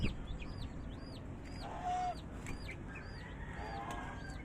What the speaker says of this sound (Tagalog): Tignan po natin yung sisiw mga kaubayan.